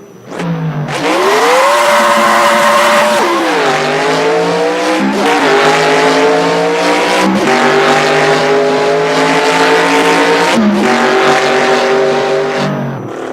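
A car engine revs hard and climbs through the gears, with several rising pitch sweeps broken by brief dips at each shift. It is loud, close and continuous, with no talk.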